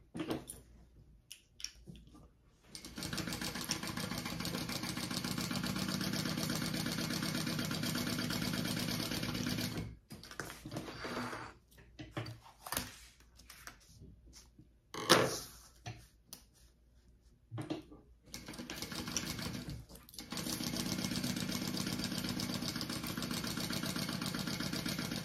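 A sewing machine stitches the diagonal sides of a fabric piece in long steady runs, its motor hum close and continuous, broken by a few pauses with clicks and handling sounds.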